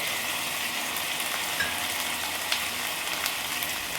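Chicken masala sautéing in a pan with two tomatoes and two sprigs of curry leaves, a steady close sizzle with faint crackles throughout and no voices.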